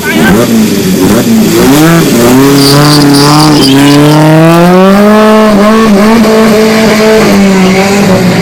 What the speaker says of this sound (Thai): นี่สังเกตจากการเบิ้ลนี่แสดงว่าใช้อีซูซู เพราะว่าอีซูซูชอบเวลาเข้าเกียร์ต้องเบิ้ล